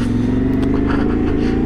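A brand-new motorcycle engine held at low revs, around four and a half thousand rpm, giving a steady, close, loud idle-like drone with a firm low throb throughout, no voices.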